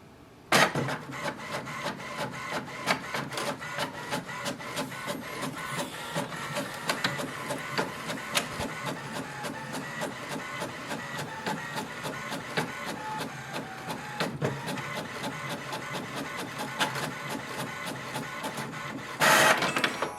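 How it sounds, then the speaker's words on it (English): A Wi-Fi-connected printer runs off a confirmation page, giving a steady mechanical whir with rapid feed clicks that continues for about twenty seconds, ending in a louder burst of paper motion. "So printer is connected, it has printed the welcome sheet."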